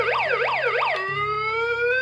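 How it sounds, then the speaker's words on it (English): A Hess 2020 toy police car plays its two electronic sirens: a rapid rising-and-falling wail for about a second, then a steady high tone, loud and close with no talking. "Those are the two different sirens as lights."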